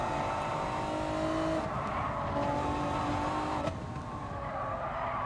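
Race car engine in GT Sport, a loud steady roar with a sustained pitch that shifts as the car accelerates and changes gear, with tire squeal and no talk.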